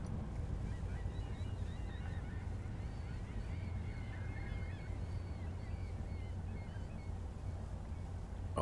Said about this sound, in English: you can hear the birds in the background